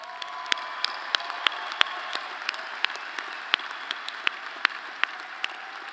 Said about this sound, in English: Everyone, a round of applause for all of our graduates.